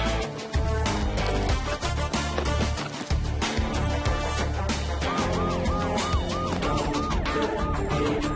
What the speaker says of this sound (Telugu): పోలీసులో ఉన్నారు, సైరన్ కొడుతున్నారు